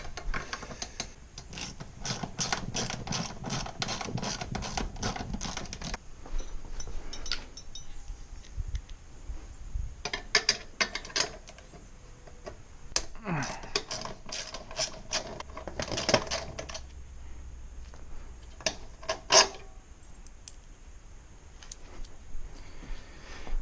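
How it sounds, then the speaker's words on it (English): Ratcheting clicks from a wrench undoing a seat bolt on a Brixton Felsberg 125 motorcycle, coming in quick close bursts of rapid ticking with short pauses between turns, no talking. "to remove the seat, you just have to undo this bolt"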